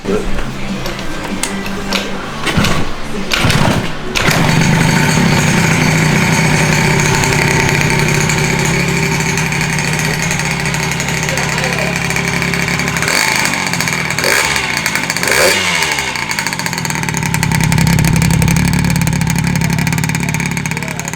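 A 120cc stroker Honda Elite scooter engine runs loud and close, starting with sputters and then holding a steady buzzing idle with occasional revs. A voice talks over it.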